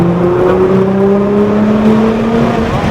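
Supercar accelerating on the Charlotte Motor Speedway track, a loud, steady engine drone with rising tonal whine throughout, heard from inside the car.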